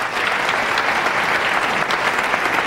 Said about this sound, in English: Applaud real big.